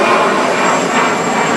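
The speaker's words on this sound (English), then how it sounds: "now the airplane goes over on its back and holds." A Vampire jet airplane rolls inverted and holds upside down during the Duluth Air Show, a steady broadband jet roar sustained loudly and evenly throughout.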